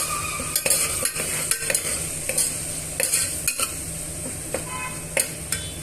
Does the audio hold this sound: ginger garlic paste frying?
yes